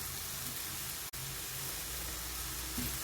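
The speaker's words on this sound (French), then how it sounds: "il faut remuer à feu doux" A vegetable mixture for stuffed msmen stirred in a pan over low heat, giving a soft steady sizzle with faint stirring scrapes throughout, broken by one brief dropout.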